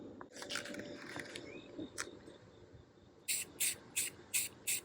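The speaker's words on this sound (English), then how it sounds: "I'm gonna spray our color in the same technique that I did for the primer." Five short bursts of hissing spray from a spray paint can coating a lamp, evenly spaced and close, after some rattling and handling sounds.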